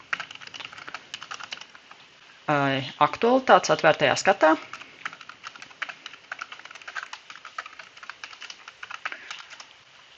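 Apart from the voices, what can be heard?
typing on a computer keyboard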